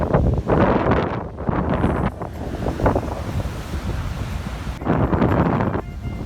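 Wind buffeting the microphone at the seaside with waves washing on the shore, a loud, steady rush with gusty swells and no one speaking.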